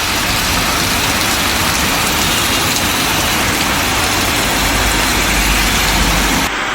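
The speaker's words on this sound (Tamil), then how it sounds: "சிவகங்கை மாவட்டம் சிங்கப்புடரி பகுதியில் 1/2 மணி நேரத்திற்கு மேலாக பரவலாக மழை பெய்தது." Heavy rain pours steadily over a road in the Singampunari area of Sivaganga district, Tamil Nadu, a dense unbroken hiss with a low traffic rumble underneath, constant and loud throughout, no voices.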